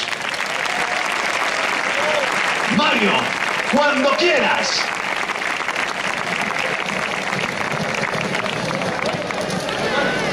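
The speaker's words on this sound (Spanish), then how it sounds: "les voy a pedir que reciban con un fortísimo aplauso a la escuela de baile, Calle Elvira" A crowd applauds loudly to welcome the Calle Elvira dance school before its dance performance at La Fortuna, a continuous dense roar of clapping throughout, with a few voices calling out briefly over it.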